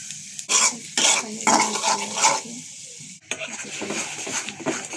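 Garlic and spices sautéed in a pan for a fish dish, with loud bursts of sizzling as a utensil stirs and scrapes the pan in irregular strokes, followed by a steadier sizzle after a brief pause.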